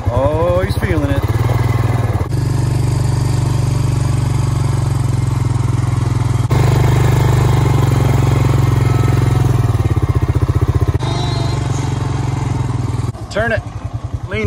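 A motor vehicle rolling slowly in first gear gives a steady, loud low engine drone with a few pitch shifts and sharp breaks, close and continuous for the whole stretch, with occasional voices around it.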